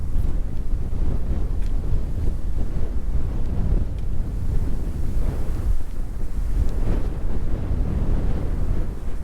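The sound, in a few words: strong wind blowing over a mountain meadow creek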